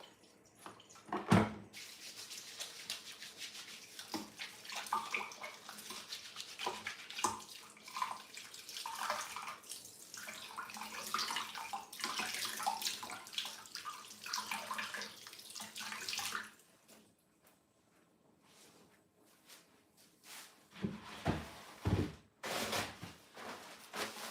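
Tap water runs steadily at a kitchen sink while hands are washed, a soft continuous splash with rubbing and shifting sounds, then stops, leaving a few faint clatters.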